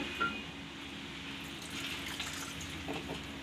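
Water is poured into a cooking pan while making chhena curry in a home kitchen, a soft steady trickle and splash, fairly faint, with brief louder moments near the end.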